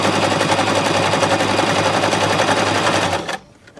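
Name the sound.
Baby Lock Zest sewing machine stitching fabric edges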